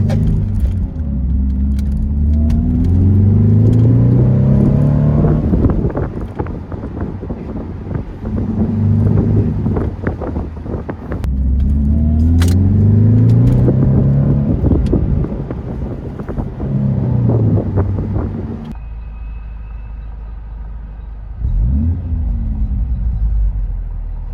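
BMW Z4 fitted with a SuperSprint sport muffler cat-back exhaust, heard driving with a deep engine note that climbs through the revs, drops at shifts and rises again, recorded close with wind buffeting and no talk.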